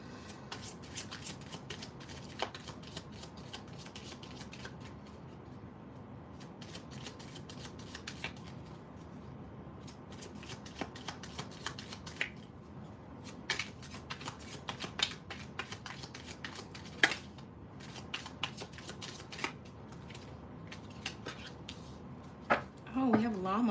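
Tarot cards being shuffled by hand, a steady papery riffling and sliding that runs continuously at close range with soft taps throughout.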